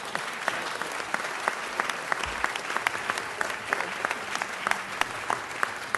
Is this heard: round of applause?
yes